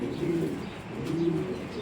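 Pigeons kept for sale coo nearby in soft, repeated throaty phrases, several overlapping calls rising and falling over a quiet background.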